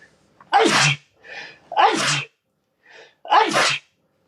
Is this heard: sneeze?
yes